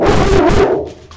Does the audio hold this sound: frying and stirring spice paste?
no